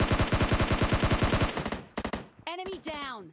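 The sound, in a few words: gunfire from SCAR-L and M416 in video game PUBG Mobile Lite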